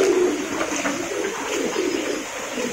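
Pigeons coo softly in a large pigeon loft, with overlapping low throaty calls over a steady hum of background noise.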